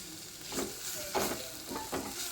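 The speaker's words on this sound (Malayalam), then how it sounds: "അതിലേക്ക് നമുക്ക് ഒരു തക്കാളിപ്പഴം അരിഞ്ഞതും കൂടെ ചേർത്ത് കൊടുക്കാം എന്നിട്ട് അത് നല്ല രീതിക്ക് അങ്ങോട്ട് ഇളക്കി കൊടുക്കണം" Chopped tomato and onions frying in a pan for a Kerala prawn theeyal, stirred with soft scraping strokes at a steady pace over a low continuous sizzle, close by with no talk.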